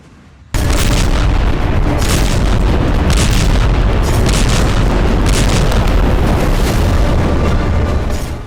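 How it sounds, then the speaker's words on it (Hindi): Heavy explosions from RPG fire aimed at IDF tanks in Gaza, a dense, continuous roar of loud booming blasts and rumbling impacts that begins abruptly after a short quiet moment and holds steady throughout. "वहां से चुपके से निकलकर आरपीजी से आईडीएफ के टैंक को निशाना बना रहे हैं।"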